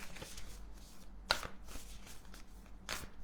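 Oracle cards being shuffled and cut by hand at a table: a few soft papery riffles and flicks, with one sharper snap near the middle and another toward the end, quiet and close.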